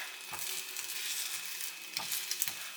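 Eggs sizzle steadily in a hot pan while a utensil scrapes and stirs them, soft periodic pushes sounding through the continuous close frying hiss.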